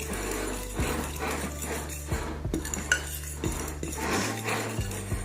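Flour, baking soda and salt mixed in a bowl for peanut butter banana cookies, steady scraping and knocking of a utensil against the bowl with a low hum underneath, close and without speech.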